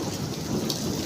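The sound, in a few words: rain and hail during thunderstorm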